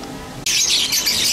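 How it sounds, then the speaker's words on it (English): Lovebirds burst into shrill, overlapping squawks and chirps in an aviary at a cruise port, loud and near after a quieter start. "The next one is lovebirds, and they're all like above you, including these adorable couple of birds."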